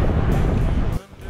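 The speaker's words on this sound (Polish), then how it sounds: "zaczynają się fale, ale woda cieplusia" Ocean waves wash onto a Miami beach in a steady, loud broadband rush of surf and wind, which drops away abruptly near the end.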